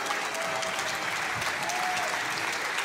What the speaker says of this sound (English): Give them a round of applause for showcasing the new content.